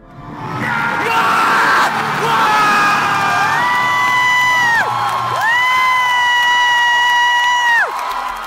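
A huge convention crowd at San Diego Comic-Con 2013 roars, with high sustained screams and whoops rising over dense cheering, loud and continuous throughout.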